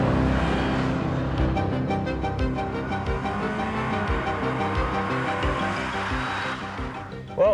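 A 1990 Acura Integra with automatic transmission accelerates hard, its engine rising through gears in a loud, sustained roar heard from inside the car with road noise.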